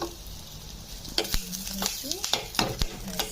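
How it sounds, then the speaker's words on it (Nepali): Dry red chilies fry in a small amount of hot oil with a soft, steady sizzle. Several sharp scraping stirs of a spoon against the pan sound close by, and no one speaks. "र म अब यसमा सुक्खा खोर्सानी दिन गइरहेको छु।"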